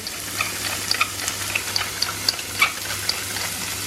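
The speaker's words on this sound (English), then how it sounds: "Rico is cooking off the bacon, the onion and the garlic" Bacon, onion and garlic fry in a pan with a light sizzle, dotted with sharp small pops and crackles at irregular intervals, heard close and alone.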